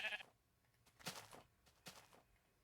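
Sheep bleating in Minecraft Beta, a few short bleats repeating at intervals, fairly quiet, set against light game sounds with no talking.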